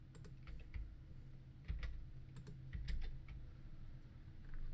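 Fast typing on a computer keyboard while teams are entered into an online randomizer, with bursts of quick clicking keystrokes over a low background hum.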